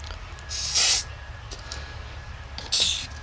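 Two short hissing bursts from an aerosol can spraying rust treatment onto a rusty junkyard motorcycle, close and fairly loud, separated by a couple of seconds of quiet hum.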